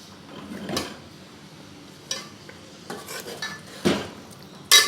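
Chicken masala is mixed and fried in a pot, with scattered clanks and scrapes of a metal utensil against the pot over a quiet background, close up and without speech.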